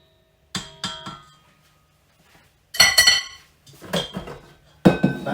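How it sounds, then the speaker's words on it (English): A metal mixing bowl taken off a stand mixer, heard as a few separate knocks and clanks of metal in a quiet kitchen, with silent gaps between them. "I'm just going to remove this bowl from the stand mixer"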